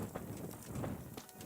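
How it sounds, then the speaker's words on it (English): Horse hooves clip-clop at a steady trot in a video game, a soft, continuous rhythm of muffled hoofbeats heard at moderate distance with no talking over it. "That's not my horse."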